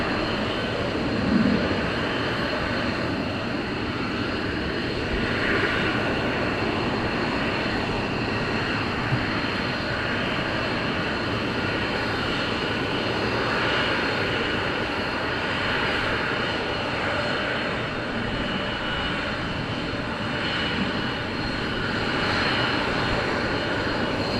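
An F-15 fighter jet flying at RAF Lakenheath, heard as a steady, broad engine roar that holds fairly loud and even throughout without any talk.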